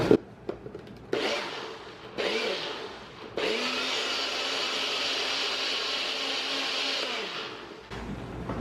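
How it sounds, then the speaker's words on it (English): A NutriBullet blender purees tomatoes in a few short bursts of whirring, then runs in one sustained, loud grinding stretch before stopping, with brief motor pulses after. "throw it in a blender or a food processor or a NutriBullet if you're us"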